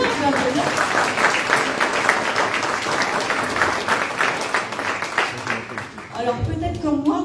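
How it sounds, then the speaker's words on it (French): Audience applause fills a public campaign meeting for a left-wing municipal list in Conflans, a steady crowd clapping that runs loud for about six seconds before tapering off, with a voice starting to speak near the end. "On peut applaudir"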